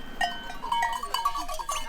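Sheep bleat in short, repeated calls at moderate distance in a South African grassland village, with rustling outdoor ambience and faint background noise.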